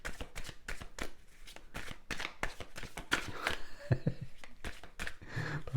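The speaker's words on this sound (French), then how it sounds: "Quand je brasse les cartes comme ça" Tarot cards being shuffled by hand, a quick run of crisp riffling flutters and soft slaps repeating close up, with faint voice-like murmurs in places.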